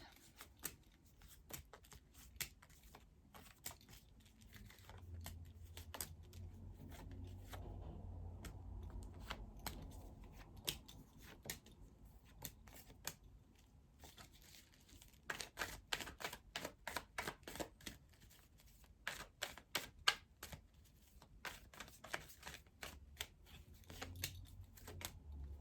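Tarot cards being shuffled and handled at a reading, quiet close riffles and soft flicks that come in bursts, with brisker clusters of snapping cards in the second half.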